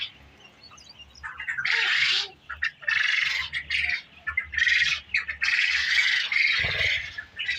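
Japanese quail at a poultry hatchery and farm giving a series of sharp, squawking calls in bursts, near and fairly loud, with a low thump near the end and no talking.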